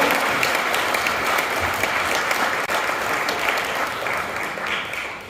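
Dense, sustained applause from a large audience at an awards ceremony, loud and steady throughout with no speech over it.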